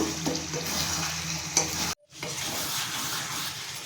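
Chicken curry being stirred in a hot pan gives a soft, steady sizzle with scraping stir strokes, cut by a brief silent gap midway before the quiet frying resumes; no one speaks.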